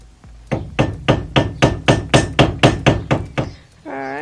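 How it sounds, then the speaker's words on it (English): Dust cap on a BMW E30 wheel hub is knocked off with a steady run of about twelve loud, sharp hammer strikes, close up, followed by a brief ringing tone. "So, we've got this dust cap here that we're going to remove."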